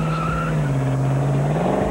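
A daredevil's car engine on a practice run at a 1998 stunt event, with a steady loud engine drone and tire squeal as the car pulls away, alone with no talk.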